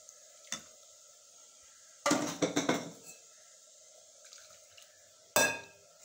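A cooking vessel is rinsed with water while making mutton coconut milk curry, with three separate bursts of splashing and clattering, the middle one longest, set apart by near-silence and a faint background hum, no talk.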